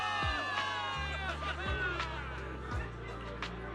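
Cheering and whooping from a crowd of soldiers celebrating victory in a video game, layered with tonal game music and low booming hits, lasting the whole stretch at steady loudness.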